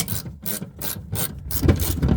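A wrench works loose the jam bolt feeding into the back of an HWH slideout cylinder, giving close, rhythmic ratcheting clicks in bursts separated by short pauses, with a final grinding turn.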